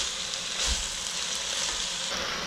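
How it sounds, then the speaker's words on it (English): Leafy greens sautéing uncovered in a pan for a tribal-style saag, a steady close sizzle with a faint scraping stir, no voices. "So keep sauteing openly"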